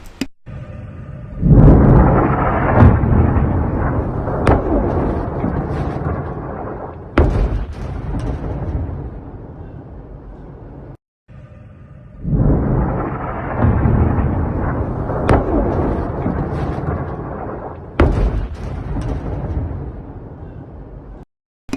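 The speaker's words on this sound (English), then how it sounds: "It is a very serious airstrike on the Iranian Broadcasting Corporation taking the site." Airstrike explosions in Sanandaj, Iran, heard as two long, heavy rumbling booms, each rolling on for several seconds, with sharp cracks mixed in and a brief silence between them.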